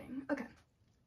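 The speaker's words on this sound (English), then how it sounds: "I have a tiny bit of a cough" A single short, soft cough close by, followed by quiet.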